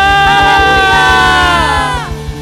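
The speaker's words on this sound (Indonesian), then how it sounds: "Lambaikan sorak-sorai kemuliaan bagi nama Tuhan kita, sorakan haleluya" Christmas church service congregation shouting and cheering hallelujah, a loud sustained crowd roar with sung or shouted voices over rhythmic music, fading toward the end.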